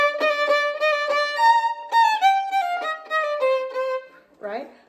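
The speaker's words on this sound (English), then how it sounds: "I want to play for you a little bit of Mozart's 40th Symphony" Solo violin plays the opening melody of Mozart's 40th Symphony, clear and close, with a quick repeated-note phrase, no accompaniment, and a short spoken word at the end.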